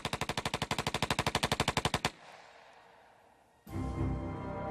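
A machine gun fires a rapid, even burst of about twenty loud, close shots lasting two seconds, followed by a low rumbling tail and then a sudden heavy blast of noise.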